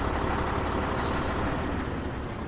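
Vehicle engine in the DayZ video game while driving, a steady loud broadband rumble with a heavy low drone held throughout, close and continuous, with no talk.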